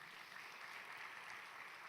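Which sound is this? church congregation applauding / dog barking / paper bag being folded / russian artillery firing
church congregation applauding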